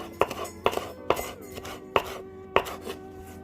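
A knife chops through the green part of plantains on a board for an omelet, six crisp, evenly spaced cuts ringing clearly with no talking.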